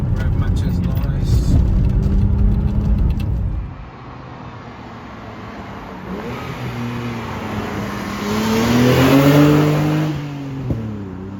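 A 1989 Vauxhall Carlton GSI 3000 24V engine revs hard from inside the car, and its loud droning pitch climbs and falls through the gears while a person talks over it.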